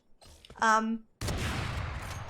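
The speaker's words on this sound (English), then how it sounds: "So the heavy sniper rifle in this game" A heavy sniper rifle in Valorant fires, a sudden loud blast with a long rumbling tail, coming right after a short stretch of talk.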